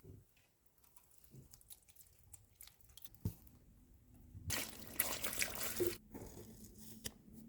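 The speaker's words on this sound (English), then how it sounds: "I think I'm just going to go and water the plants for now" Water pours onto plants in a short gush of about a second and a half, which splashes and trickles at moderate volume. Quiet handling noises come before and after it.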